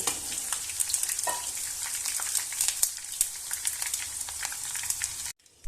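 Cauliflower florets fry in hot oil, a busy close crackle and sizzle with spattering pops and a few stirring knocks, cutting off abruptly near the end, with no talk.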